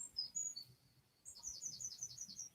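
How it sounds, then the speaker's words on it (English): Birds sing outside during a quiet indoor session, with high, thin chirps and short warbling phrases coming faintly from a distance in two bursts, with no talking. "I can hear birds singing outside."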